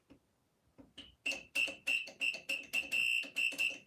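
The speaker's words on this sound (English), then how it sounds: "So it literally sounds like a fire alarm." Elevator alarm buzzer that sounds like a fire alarm, ringing in a run of loud, evenly spaced electric bell bursts that start faint and quickly grow strong, with no talking.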